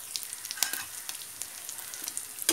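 Fish pieces frying in hot oil for a spiced fish fry, a close crackling sizzle with scattered sharp pops and spatters, no voices.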